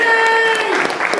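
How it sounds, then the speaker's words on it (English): Audience applause at a live magic and comedy show, a dense burst of clapping that swells after a sustained tone, loud and close, with voices mixed in. "the entire audience erupts into spontaneous applause"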